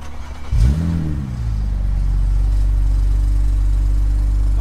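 BMW E92 335i with an N54 engine and a Miltec exhaust starts with a sharp bark, then settles into a steady, loud, deep idle rumble with a subdued exhaust tone.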